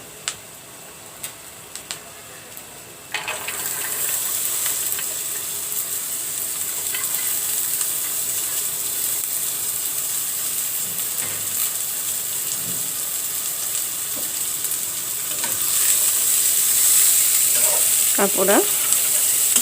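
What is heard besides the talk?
jackfruit seeds and bottle gourd peels frying in a pan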